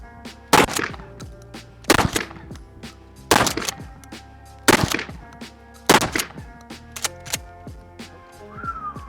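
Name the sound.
shotgun firing slugs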